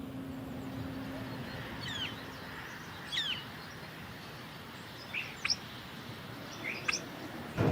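Starlings nesting in an old airplane at an airport give scattered short chirps and whistles, five or six brief calls spread over several seconds against a low, steady background rumble.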